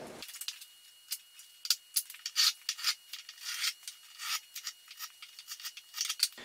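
A marking gauge scribes a quarter-inch chamfer line around a wooden stool seat: repeated soft, scratchy rasping strokes close by, irregular in rhythm, with no talking.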